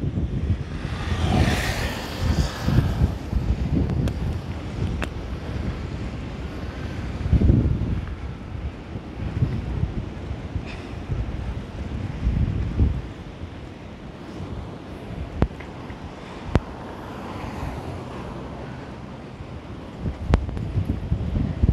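Strong wind gusts buffeting a microphone at a sunny beach in Peruíbe, with surf rumbling underneath; the blustery noise rises and falls in loud bursts throughout, with no talking.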